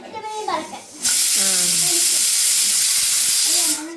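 A pressure cooker on a home kitchen stove lets out a loud, steady hiss of steam for about three seconds, cutting in abruptly and stopping just as suddenly, with voices talking just before it.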